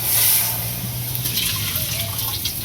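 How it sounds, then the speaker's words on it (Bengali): Water is poured out from a pot in an outdoor home kitchen, a steady splashing rush that stays fairly loud for a few seconds with no one speaking. "জলটা এই ফালাই দিই"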